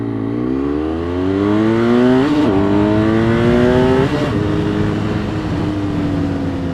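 A BMW F800 motorcycle accelerating on a highway, its engine note climbing steadily through two gear shifts, loud and close with a constant roar of wind and road noise.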